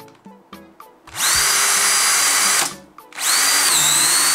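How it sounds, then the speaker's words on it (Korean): An 18V 2A cordless power drill bores into wood: a few short starts, then two sustained, loud whirring runs with a brief pause between them and no talking. "두 번째는 18V의 2A짜리입니다. 얘를 한번 뚫어 보겠습니다."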